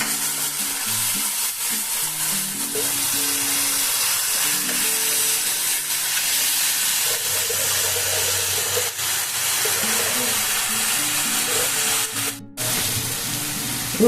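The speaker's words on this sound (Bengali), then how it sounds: "আজকে আমি মশলাটা ভেজে নেব পেঁয়াজ আর টমেটো ভাজা হয়ে গেছে খানিকটা" Spice paste with onion and tomato frying and being stirred in a pan for an egg omelette curry, a steady loud sizzle with scraping stir strokes throughout, no talk.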